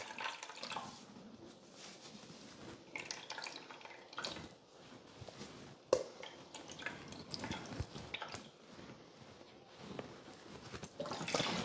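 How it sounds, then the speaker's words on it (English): Coconut cream strains through a nut milk bag in a kitchen, making irregular close drips and small splashes with soft wet squishing, quiet and with no voices. "I'm just going to strain the coconut cream through a nut milk bag like this"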